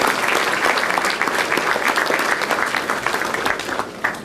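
A crowd at a white coat ceremony applauds steadily for absent members of the government of Dominica, dense even clapping filling the whole stretch before tapering slightly at the end.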